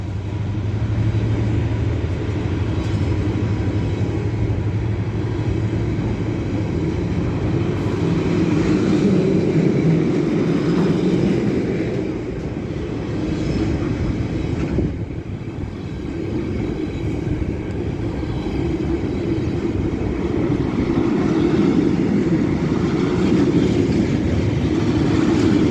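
Locomotive 69006 hauls a works train through York station on the East Coast Main Line, a steady low diesel rumble and drone that holds at an even level for the whole stretch.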